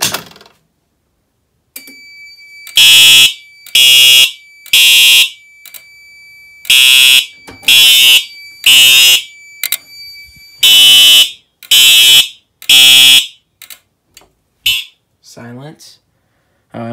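Loud, close fire alarm horn sounding in repeated bursts with short gaps during a fire alarm system test on an MS-10UD panel with a TrueAlert notification device, then fading out.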